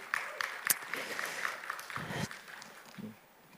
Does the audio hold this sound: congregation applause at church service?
yes